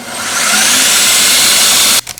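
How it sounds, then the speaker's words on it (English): A blender runs on high, whirring steadily as it purees garlic and Italian seasoning, loud and continuous for about two seconds before cutting off abruptly, with a brief clatter after. "we'll simply put on our lid and then blend this on high until it is well"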